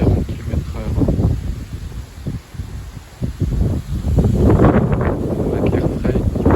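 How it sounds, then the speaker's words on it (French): A strong southwest wind at about 40 km/h buffets the microphone in loud, gusty rumbles, easing briefly midway and then rising again to a steady roar. "Ah, ça s'est renforcé le vent là à 40 km/h."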